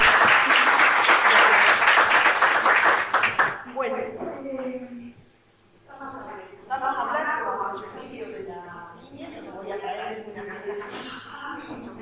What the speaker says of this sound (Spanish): Así que un aplauso para ella